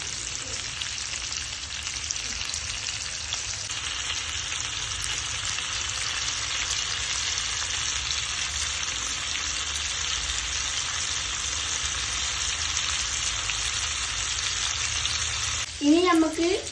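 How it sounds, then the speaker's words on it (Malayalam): A big lobster, about a kilogram, frying in hot oil: a loud, steady, close sizzle and crackle that runs unbroken, with a brief clatter of stirring near the end. "ഇതിനെ നല്ല ഫ്രൈ ചെയ്തെടുക്കണം"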